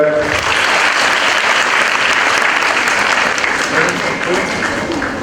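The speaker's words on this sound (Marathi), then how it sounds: "सर्वांनी टाळ्या वाजवायच्या" Applause from an audience at a Rotary Club event during a lamp-lighting ceremony, steady dense clapping sustained loudly across the whole stretch.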